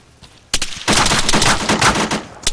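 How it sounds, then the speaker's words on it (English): Video game gunfire: after a quiet start, rapid automatic bursts crack loud and close, firing almost without pause in a dense rattling stream. "What's it shooting at?"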